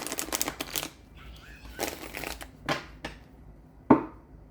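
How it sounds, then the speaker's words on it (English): A tarot card deck is given a quick shuffle by hand, with several rustling, riffling bursts and a sharp tap near the end, close and fairly clear. "We'll give that a quick shuffle, and then we'll shuffle more when we get to this deck."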